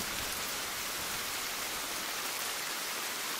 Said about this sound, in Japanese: しめやかな雨も、雷伴う激しい雨も、どちらもそれなり良いものだ。